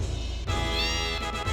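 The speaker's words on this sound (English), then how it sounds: "I hear a kitty." A cat meows once in Final Fantasy VII, a clear rising-and-falling cry close up over a steady game background hum.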